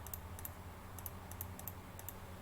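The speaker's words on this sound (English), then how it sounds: "One by one I am clicking on every answer." Quick light clicks of a computer mouse or keys while selecting quiz answers, scattered in small pairs and singles over a steady low hum.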